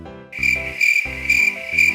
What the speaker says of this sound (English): Man, there's a lot of crickets here